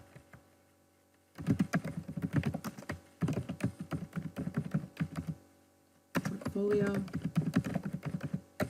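Computer keyboard typing comes in quick, close bursts of key clicks, pausing between runs, while a person talks over it.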